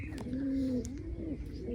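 A wild pigeon coos softly nearby, a low rolling call rising and falling twice over a faint background hum.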